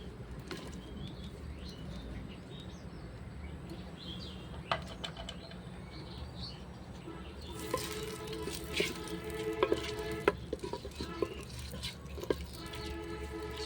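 Chopped onion hits hot mustard oil in a clay pot over a clay stove. Low background hum gives way midway to a burst of crackling sizzle and sharp spitting pops, with faint bird calls in the distance and no talking.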